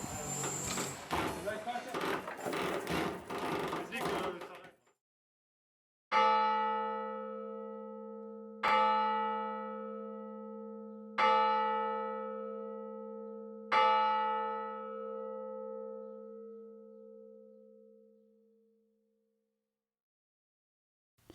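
After some clattering and talk, a large church bell on a ball-bearing yoke tolls four times at a slow, even pace, each deep strike ringing out and fading into a long hum.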